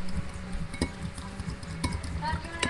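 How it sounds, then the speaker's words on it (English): A fork whisks eggs in a bowl for French toast, making quick, steady scraping and tapping strokes with a few sharp clinks against the dish. It is close up, and no one speaks. "So I'm just going to use a fork. I just cut myself with a knife. Just whisk this up."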